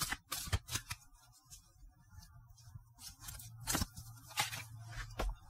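Tarot cards are shuffled and handled close by in brisk papery riffles and flicks, with small gaps between bursts of shuffling.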